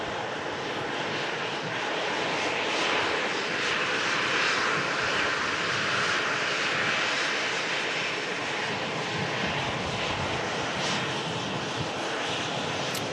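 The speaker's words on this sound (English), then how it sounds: "Ryanair arrived in from Belfast after just a quick 40-minute flight." A Ryanair airliner arrives at Manchester Airport after a short flight from Belfast, its engines giving a steady, loud broadband roar that holds throughout with no voices present.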